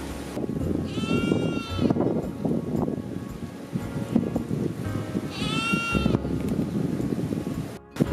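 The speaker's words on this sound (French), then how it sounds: "Nouvelle attraction de la journée, la petite chèvre sauvage." Wild goat on La Désirade, Guadeloupe, bleating twice outdoors, two clear harmonic bleats a few seconds apart over steady wind and rustling background.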